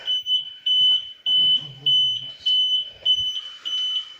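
A smoke alarm beeps again and again in an abandoned hotel that opened in 1974. The shrill tone pulses in a steady on-off rhythm, close and loud, while people talk over it.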